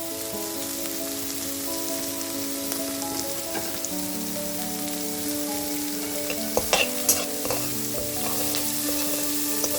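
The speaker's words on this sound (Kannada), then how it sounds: "ಆನಿಯನ್ನೆಲ್ಲ ಸ್ವಲ್ಪ ಫ್ರೈ ಆದಮೇಲೆ ಸ್ವಲ್ಪ ಸಾಲ್ಟ್ ಹಾಕ್ಕೊಳ್ಳೋಣ ರುಚಿಗೆ ತಕ್ಕಷ್ಟು" Onions frying in a pan sizzle loudly and continuously, like rain on a surface, with a cluster of stirring scrapes and clicks in the second half and no speech.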